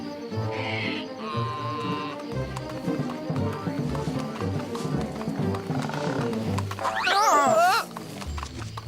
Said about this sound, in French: On va galoper.